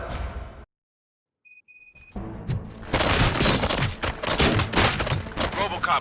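Gunfire in the video game RoboCop: Rogue City: after a brief silence, a dense, loud burst of rapid shots and impacts fills the second half, layered with game sound and noise.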